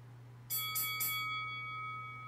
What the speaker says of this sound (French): on vient d'entendre la cloche